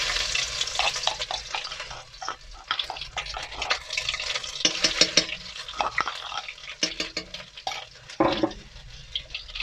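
Garlic and ginger paste hitting hot mustard oil in a pan sputters and crackles, with uneven bursts of sizzling and scraping stirs that rise and fall close by.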